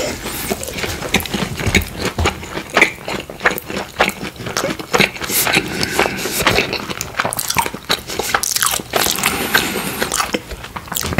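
Someone bites and chews Korean fried tofu pockets stuffed with rice alongside kimchi, giving close, loud, steady wet crunches and mouth sounds in a dense rhythm throughout, with no speech.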